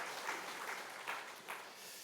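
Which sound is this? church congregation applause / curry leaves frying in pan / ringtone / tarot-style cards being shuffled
church congregation applause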